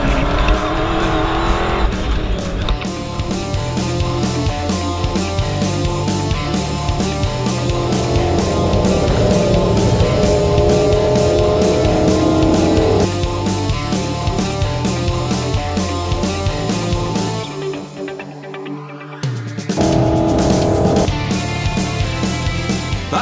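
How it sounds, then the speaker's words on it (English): Trucks driven hard around a training course make a loud, continuous engine roar with tyre squeal throughout, easing briefly near the end before returning at full strength. "these trucks aren't for the faint-hearted."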